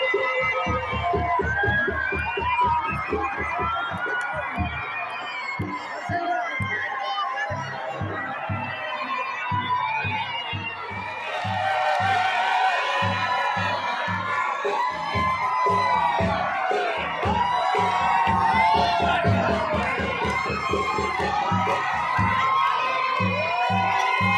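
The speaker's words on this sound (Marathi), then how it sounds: "सगळीकडे होळी पेटवल्यानंतर बोंबलत आहेत. सगळीकडे एकच गोंधळ उडालेला बघायला मिळत आहे" Large crowd shouting, whooping and cheering around a Holi bonfire in Alandi, a loud, continuous mass of voices with rhythmic low thumps running throughout.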